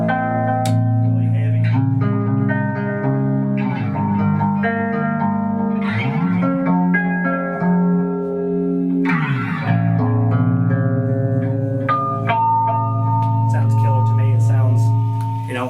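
Clean electric guitar played through an amp with an effects unit, sustained chords and single notes ringing with reverb and echo, loud and close, no talking.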